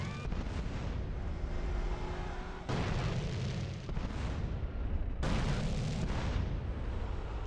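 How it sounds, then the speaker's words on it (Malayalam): Gunfire aimed at road blockers in the video game GTA San Andreas comes as dense, continuous bursts and booming blasts, loud and unbroken across the whole stretch. "ഇതാണ് നമ്മൾ ചെയ്യേണ്ട കാര്യം, വെടിവെക്കുക."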